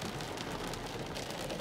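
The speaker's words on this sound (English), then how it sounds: "it's like really raining" Heavy rain pouring down at an outdoor powwow gathering, a steady, dense hiss of drops drumming on surfaces close by, unbroken for the whole stretch with no voices.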